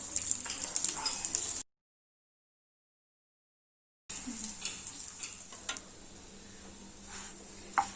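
Bun parotta fries on an oiled pan over medium heat, making a bright continuous sizzle that cuts out to silence for a couple of seconds, then resumes with scattered pops and crackles.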